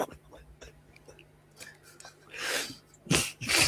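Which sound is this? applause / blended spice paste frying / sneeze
sneeze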